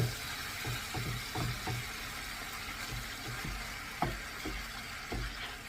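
Ground beef sizzles steadily in its own rendered fat for chopped cheese sliders, a soft, even frying hiss broken by several light scrapes and stirring knocks from a spatula.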